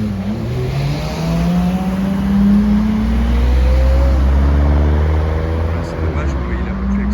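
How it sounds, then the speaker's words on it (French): Yellow Porsche Carrera GT with a V10 engine revs and drones loudly nearby, its pitch climbing in rising sweeps, while crowd noise and voices carry in the background. "Écoutez-moi ce V10 quand il va accélérer, ça va être quelque chose d'assez dingue."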